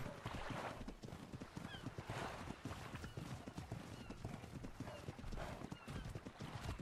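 Horse hooves clip-clopping in the video game ARK: Valguero, a brisk steady gallop rhythm with occasional neighs over ambient game noise.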